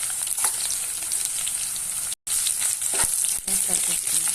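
Tempering spices and dried red chillies fry in hot oil, a loud, dense crackling sizzle that runs continuously with a brief break midway and a few stirring clinks.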